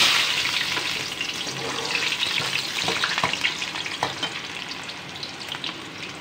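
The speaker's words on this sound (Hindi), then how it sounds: "ऑयल का कलर चेंज हो गया है, ये देखें लाइट हो गया। तो हम इसमें डाल देंगे 1 अदद कटी हुई प्याज" Chopped onion fries in hot oil in a pan, a loud, dense crackling sizzle that runs continuously from start to finish with no voices.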